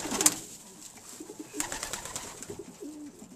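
A silver pigeon gives soft, low cooing calls, fairly faint and close, with a few sharp higher clicks or scuffs nearby.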